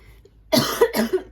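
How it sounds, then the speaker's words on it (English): A single close cough burst with a short follow-up hack, harsh and brief, after a moment of near silence. "I've still got this niggly cough."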